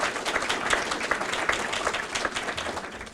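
An audience applauds at a county financial report meeting in Batavia, a dense steady wash of many hands clapping close and moderately loud throughout, tapering slightly at the end.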